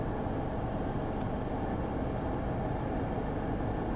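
Steady broadband road and engine rumble from a car driving, captured by a windshield-mounted Joying dashcam DVR, a constant low drone with no distinct events or voices.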